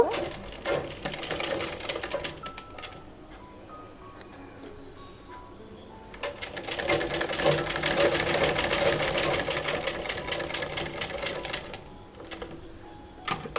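A sewing machine stitches a cloth face mask in rapid ticking bursts, a short run, a quieter pause with handling noise, then a longer steady stretch of fast needle clatter before it stops.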